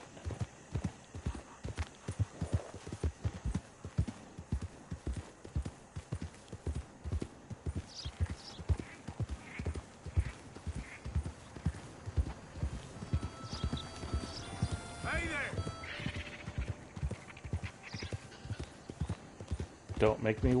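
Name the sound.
horse hooves clip-clopping and whinnying in video game Red Dead Redemption 2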